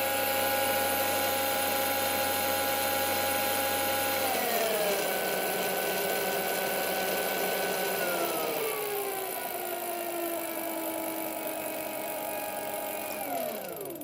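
A BBSHD mid-drive e-bike motor running at full throttle: a loud, steady high-pitched mechanical whine with tones that step down in pitch a few times, continuous throughout with no talking.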